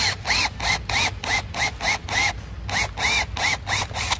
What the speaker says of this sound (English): I'm going to start those, the two outside ones, with a 1 inch Forstner bit